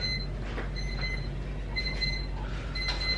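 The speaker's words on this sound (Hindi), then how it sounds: "मेरा अलार्म बज गया है" A repeating electronic alarm beeps in short bursts, several rings spaced about a second apart over a steady low rumble of background noise.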